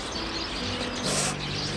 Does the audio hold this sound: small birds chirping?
yes